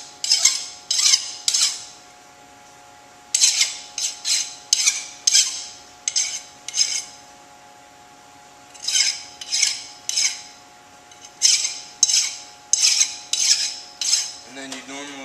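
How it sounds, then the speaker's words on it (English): Metal file rasping burrs off a machined metal part, heard as bursts of repeated scraping strokes in groups of three to five, close and clear, separated by quiet pauses, with no talking. "You want to file all your burrs off again."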